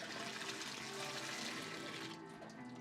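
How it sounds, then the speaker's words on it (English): Water poured out of a film developing tank during home colour film processing, a rushing, gurgling splash that runs steadily for a couple of seconds, then tapers to a thinner trickle. "So dump the water, and now we're gonna go with the stabilizer."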